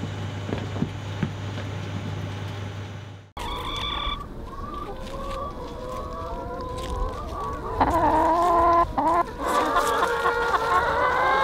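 Hens clucking and calling in bursts, fairly close, with several birds overlapping; a low steady hum fills the opening seconds before the birds start.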